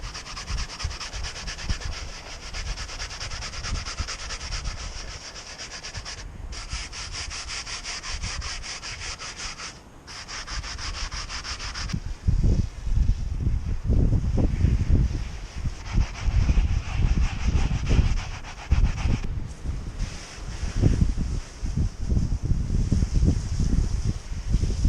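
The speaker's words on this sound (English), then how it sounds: "I'm using some of this Turtle Wax Power Out Carpet and Mats Cleaner with the scrubby brush." A stiff scrubby brush works Turtle Wax Power Out Carpet and Mats Cleaner into car floor carpet, making close, steady rasping scrubs, lighter and brighter at first, then heavier and louder strokes with brief pauses.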